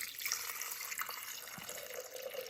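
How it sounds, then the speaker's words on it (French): Water poured into a Thermomix TM6 bowl over orange peels, a steady running, splashing pour that fills the whole moment at moderate level without pause. "Et puis, je vais ajouter mon eau."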